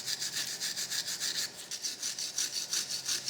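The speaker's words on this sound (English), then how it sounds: "you can just give that a bit of a quick wipe over at the same time" A cloth or hand wipes back and forth over the brake hub mating surface of a Dodge Grand Caravan during a rear rotor and pad job, making a quick rhythmic rubbing of about a dozen close strokes.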